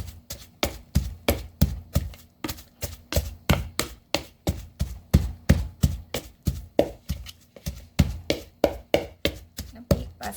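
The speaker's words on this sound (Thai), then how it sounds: "ก็ตำเนาะจ้ะตำให้เนื้อปลามันละเอียดเนาะ" Fish is pounded in a mortar for a Thai chili paste served with vegetables, steady rhythmic thuds repeating about twice a second, close and clear with no talking.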